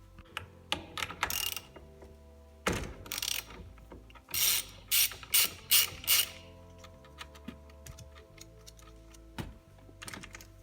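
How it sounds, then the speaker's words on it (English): A ratchet with a 21mm socket removes the steering wheel nut on a Pontiac Fiero, giving bursts of rapid clicking interspersed with metallic clinks and knocks, close and clear. "to take off this nut, you will need a 21mm socket"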